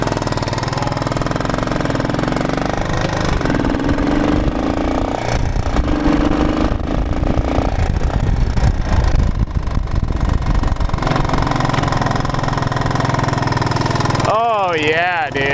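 A motorcycle engine idles loudly and steadily, close by, with a slightly high, uneven rumble throughout, idling a little too high; voices briefly surface near the end.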